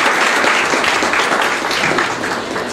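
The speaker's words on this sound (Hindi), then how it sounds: "परिवार के लिए तालियों के साथ अभिनंदन अभिवादन" Audience clapping at a book launch ceremony, a dense, steady wash of many hands that stays loud throughout and fades slightly toward the end, with no one speaking over it.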